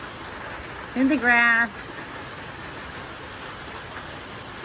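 Steady rain falls outdoors on a winter day as an even, close hiss throughout, with a brief spoken phrase over it early on.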